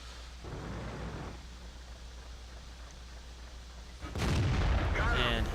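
A tank cannon fires in World of Tanks, the Type 59 battle, sounding as a sudden loud broadband blast near the end after a stretch of steady rumbling engine and battle noise.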